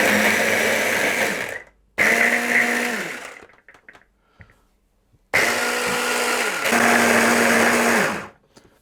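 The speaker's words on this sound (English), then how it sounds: "So with the stem ginger, I'm just going to process that until it's like a puree." A food processor purees stem ginger, whirring loudly in two long bursts that whine down at the end of each, with brief clicks and quiet handling between them.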